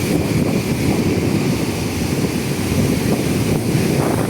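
Sea waves crash and strong wind blows on the shore after a typhoon, making a dense, continuous roar of surf and gusts without pause.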